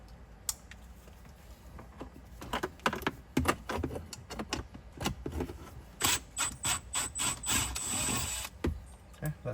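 Screws being worked out of a center console bracket on a 2014–2020 Kia Sorento, heard as close, irregular clicks, scrapes and ratcheting taps, with a run of quick rhythmic tool clicks toward the end.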